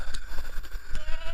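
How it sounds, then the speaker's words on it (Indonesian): A goat at a cemetery at night bleats in a few short wavering cries, close and fairly loud over a noisy outdoor background. "kambing ya."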